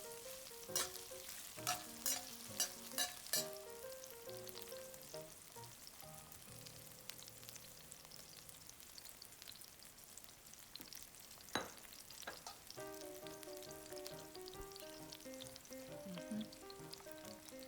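Peppers fry and get stirred in a pan, a steady sizzle broken by a few sharp clinks and scrapes early on and again near the end, with no voices.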